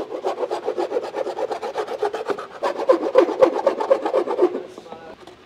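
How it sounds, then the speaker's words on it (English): The straight metal edge of a ruler scrapes burrs off a plastic snorkel part for a Ford Next Gen Raptor, making a close, rhythmic series of rasping strokes, fairly loud and regular, over about five seconds. "I'll then use the straight edge of my ruler just to get all the sharp edges off."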